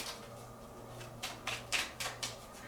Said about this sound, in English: I just started shuffling the deck.